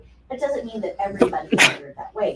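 A single sharp sneeze cuts through a classroom lecture, landing as a brief loud burst partway through while a person keeps talking around it.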